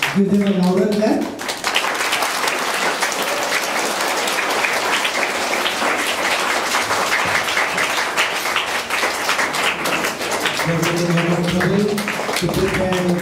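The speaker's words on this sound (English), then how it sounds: "Give them a louder clap." A school audience at a Christmas wreath play gives a long, loud round of applause, dense clapping continuing for several seconds, with voices or singing briefly at the start and again near the end.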